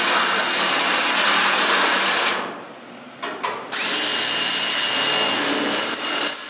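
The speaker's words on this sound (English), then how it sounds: "You're drilling out the tack welds." A loud, steady drill whines continuously while drilling out tack welds on a Studebaker body panel, stops briefly with a couple of faint clicks, then starts up again at full volume.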